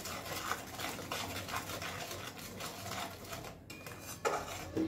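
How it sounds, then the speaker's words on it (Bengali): A spoon scrapes and clinks steadily inside a pan as turmeric and chili powder are mixed into the spices, with a brief pause and sharper clicks near the end; no voices. "সামান্য একটুখানি লঙ্কার গুঁড়ো ব্যবহার করলাম। ভালো করে মিশিয়ে নেব সবকিছু।"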